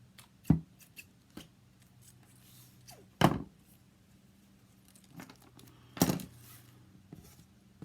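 Scissors cut scrapbook paper in a few sharp, separate snips spaced a second or two apart, close and crisp against a quiet room with faint small handling noises.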